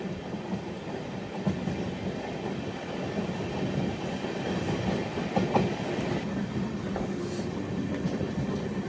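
Seshadri Express running between Kakinada and SMVB Bengaluru, heard from inside a general coach: a steady rumble with faint wheel clatter and rattling, continuous and moderately quiet.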